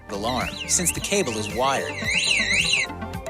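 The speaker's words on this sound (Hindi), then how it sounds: "एक बहुत ही लाउड अलार्म बजने लगेगा इस गैजेट में" A bicycle anti-theft lock alarm wails loudly in rising and falling electronic siren sweeps, then switches to a rapid warbling pattern.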